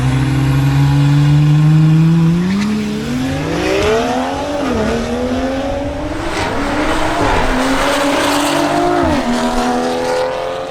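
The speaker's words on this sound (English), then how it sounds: "Miguel Palencia, in his BMW M440i, improves his previous time by clocking" A BMW M440i xDrive on a drag race run, its engine roaring close and loud as it launches and climbs steeply through the revs, pitch dipping briefly at each gear change before rising again.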